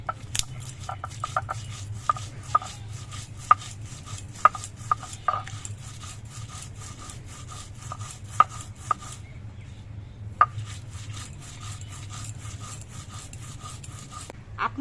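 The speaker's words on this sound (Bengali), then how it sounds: "আগে কালো দিয়ে লঙ্কা দিয়ে পাতাগুলো বেটে নিচ্ছি" Leaves and green chilli being ground by hand on a stone slab with a grinding stone, giving steady rough scraping and rubbing strokes with frequent sharp knocks, close and continuous, without talk.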